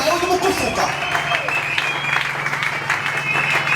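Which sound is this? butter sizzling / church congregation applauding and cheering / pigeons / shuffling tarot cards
church congregation applauding and cheering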